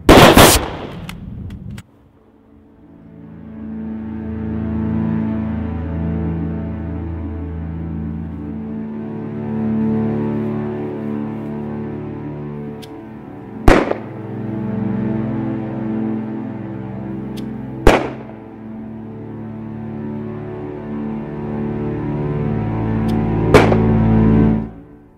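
Gunfire from a firing squad in a Nollywood film, heard as three sharp, loud shots spread several seconds apart over a sustained low drone of dramatic background music.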